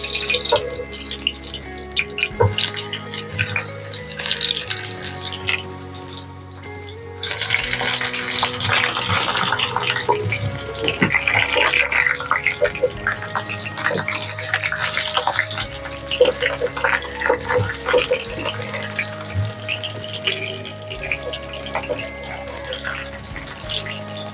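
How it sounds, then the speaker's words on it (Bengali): Potatoes frying in about two hundred grams of hot oil for Bengali alur dum, a steady broadband sizzle and hiss with some stirring and clattering, fairly close and continuous throughout with no talk. "দেখুন তেলটা গরম হয়ে গেছে এর মধ্যে আমরা আলুটা সম্পূর্ণ আলুটাকে আমরা ভেজে নেবো"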